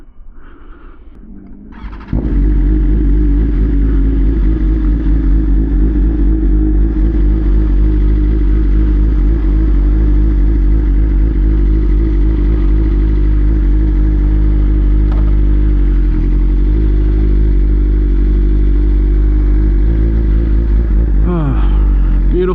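A BMW M1000RR motorcycle engine drones loud and steady on a quick ride on a hot summer day in Florida, holding a constant roar for about twenty seconds after a quieter start.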